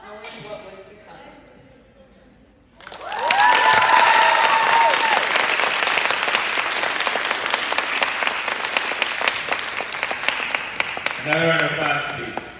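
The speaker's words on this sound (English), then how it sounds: "Another round of applause, please." A conference audience bursts into sustained, loud applause with some cheering, rising sharply after a brief stretch of talk and continuing steadily to the end, where a voice returns.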